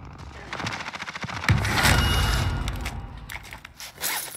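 Rapid bursts of automatic rifle fire from an AS VAL in the video game Call of Duty Warzone, close and loud, with a rattling volley then a heavier sustained stretch, faint voice chat underneath.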